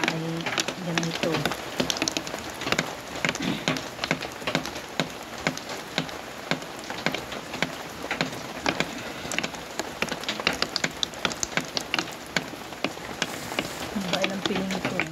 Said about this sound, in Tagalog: Maulan dito sa amin sa Quezon, sa barangay.